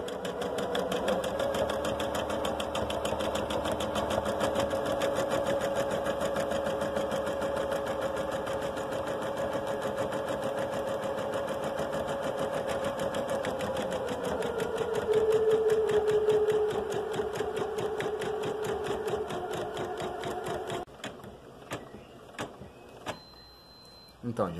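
A Janome 200E/230E embroidery machine stitching steadily with a fast, even mechanical chatter that stops near the end, followed by a few faint clicks.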